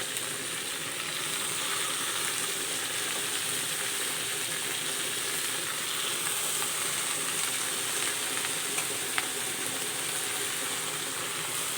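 Leafy greens, cut in large pieces, fry in a pan as part of a home-style Assamese greens recipe, giving a steady, dense sizzle that holds evenly throughout with no talking.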